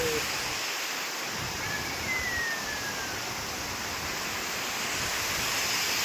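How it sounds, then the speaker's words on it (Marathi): Waterfall at Harihar Fort in India, a steady broadband roar of falling water heard continuously throughout with wind mixed in, no speech over it. "हाय ये बघा नजारा क्या वॉटरफॉल"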